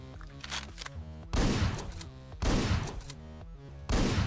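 Repeated bursts of gunfire in the top-down shooter Hotline Miami 2, loud blasts landing every second or so over a pulsing electronic music track, with no talking.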